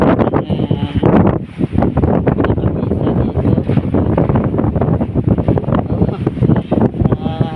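Strong Amihan monsoon wind buffets the microphone in a steady, loud roar with gusting surges throughout, and someone talks over it.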